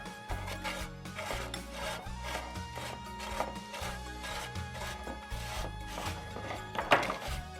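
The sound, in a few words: grating carrots on a grater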